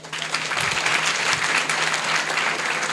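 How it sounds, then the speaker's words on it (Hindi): An audience claps for schoolgirl science students at a coaching-class event in Runnisaidpur, Bihar, producing steady, dense applause that holds loud and even for the full length with a faint background hum. "एक बार इन बच्चियों के लिए आप लोग ताली बजा देंगे"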